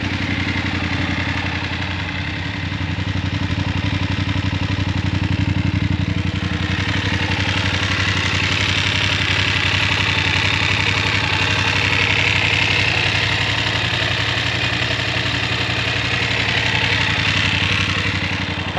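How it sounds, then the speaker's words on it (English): A BMW F850GS motorcycle engine idles with a steady, throaty mid-low thrum and light mechanical clatter, close and continuous throughout, with no voices. "It's got a good engine sound, very similar to the F850GS Adventure"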